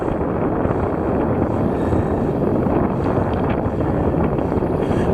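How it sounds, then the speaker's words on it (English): Wind of about 10 to 15 knots blows on open water while fishing from a boat, producing steady, loud low rumbling buffeting against the microphone throughout. "this wind's sissy wind. It's like maybe 10 knots or so, 15 the most."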